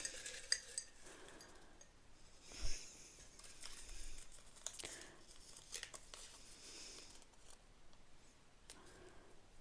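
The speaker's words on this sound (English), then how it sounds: "Gonna shuffle them real good here." Bingo prompt cards being shuffled by hand, a soft run of papery rustles, flicks and taps with one louder slap near the middle, close and fairly quiet with no talking.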